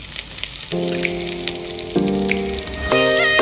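Onion poured into hot oil already seasoned with bay leaves, cloves, cinnamon and cardamom: a steady close sizzle, overlaid by a strong sustained tonal whine that starts, shifts pitch twice and carries on.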